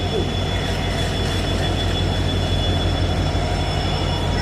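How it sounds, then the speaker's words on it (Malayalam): A train pulls away from Angadipuram railway station, a steady low rumble and hum of the moving carriage heard from on board, continuous and fairly loud with a faint high whine. "അങ്ങാടിപ്പുറ റെയിൽവേ സ്റ്റേഷൻ നമ്മുടെ വണ്ടി എടുത്തിരിക്കുകയാണ്"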